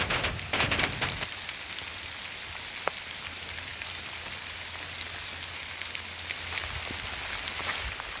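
Rain falls steadily on a wet morning at a campsite, a soft, even hiss of drops with a few sharper taps and a brief louder patter at the start, faint and diffuse throughout.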